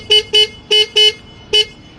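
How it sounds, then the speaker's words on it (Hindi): Five short electronic horn beeps from an Atumobile Atum 1.0 electric bike, loud and close, come in two quick pairs and then a single toot, with no talking. "ग्रीन वाला जो ये बटन देखेंगे ये दिया गया है हॉर्न के लिए"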